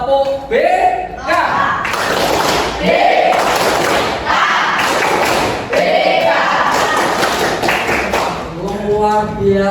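A school class performs the 'tepuk BK' clapping chant, with loud rhythmic group claps and thumps interleaved with shouted chanting voices, close and energetic throughout.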